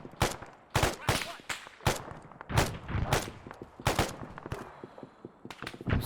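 Rifle fire in the military shooter Arma 3, a rapid irregular series of sharp, loud shots cracking one after another across the whole stretch, some bursts closely spaced and others with short gaps, no talking over them.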